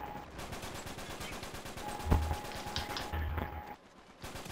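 Gunfire in a first-person shooter game comes as a rapid, steady stream of quiet shots, with a couple of heavier bursts partway through before the firing thins out near the end.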